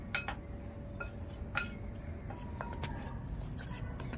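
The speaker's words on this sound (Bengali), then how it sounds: "এবার আমি এই শুকনো জিনিসগুলো একটু ভালো করে মিশিয়ে নেব।" Faint, scattered clinks of a utensil against a bowl as dry whole wheat flour, sugar, baking powder and baking soda are mixed, over a quiet background hum.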